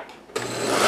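A food processor bursts into a loud, steady whir partway through, chopping nut-free pesto with olive oil after a quiet start.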